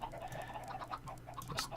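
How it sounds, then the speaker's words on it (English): Chickens in the Minecraft video game cluck repeatedly, several overlapping birds making short, fairly faint clucks in an irregular rhythm over a steady low background hum. "Chickens are hella loud."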